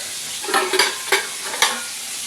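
Fish frying in a pan gives a steady sizzle, with a few louder crackling bursts from stirring or turning, close by and with no voices.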